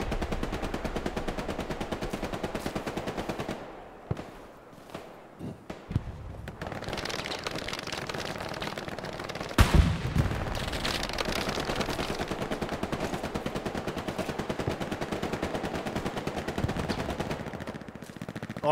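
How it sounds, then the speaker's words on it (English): Heavy machine gun fire from the Hell Let Loose war game rattles in long sustained bursts, a dense rapid stream of shots with a brief lull and a few heavier thumps mixed in, loud throughout. "a heavy machine gun is trying to make cover fire"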